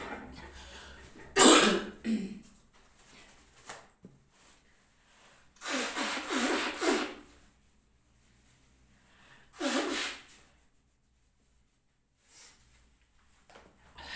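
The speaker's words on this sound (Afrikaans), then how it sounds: "ek wil net gaan my neus blaas" A person in an office blows their nose in three separate bursts: a short honk, a longer sustained blow a few seconds later, and a final shorter one, with near-silence in between.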